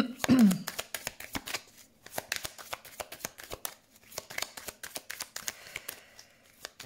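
Tarot cards are shuffled and cut close by, a quick irregular series of crisp card slaps and flicks that keeps going throughout, with a brief voice near the start.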